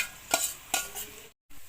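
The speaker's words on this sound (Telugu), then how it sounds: "ఇప్పుడు ఈ సొరపిట్టు వేసేసుకుందామండి." Shark fish pittu is stirred in hot oil, giving two or three soft scraping stirs over a gentle sizzle, broken by a brief silent gap near the end.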